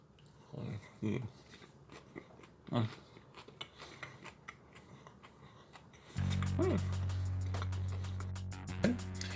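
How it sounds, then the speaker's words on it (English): Close crunchy bites and chewing into a crunchy peanut butter and jam sandwich come in a few bursts, then a louder steady hum sets in with more faint crunches beneath it. "a crunchy sandwich"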